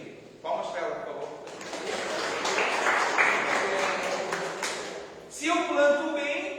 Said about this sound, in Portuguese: Palmas para ela, por favor.